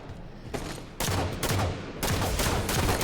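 Gunfire in Halo 5: Guardians during a SWAT match, a dense, loud run of rapid shots in three bursts that start abruptly and carry over a steady game background.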